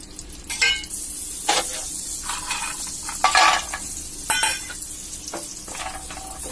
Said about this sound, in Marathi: आता हे काजू शेलो फ्राय करून घ्यायचे आहेत